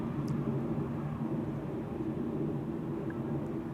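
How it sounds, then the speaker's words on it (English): An American Airlines Boeing 787 Dreamliner arrives at Schiphol on the Polderbaan runway, heard as a steady, broad jet roar at moderate distance with no voices. "that's a loud American Dreamliner returning from Philadelphia"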